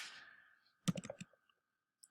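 A computer keyboard is typed on during video editing: a quick cluster of five or six close, light clicks, then a lone faint tap a moment later, with no voices.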